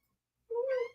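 A domestic cat gives a single clear meow at the door, close and loud, lasting about half a second after a moment of silence.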